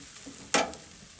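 Tandoori chicken on a grill gives one brief bright sizzling burst as a piece is flipped, set against a quiet steady hiss.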